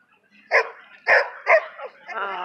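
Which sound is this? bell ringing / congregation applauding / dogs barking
dogs barking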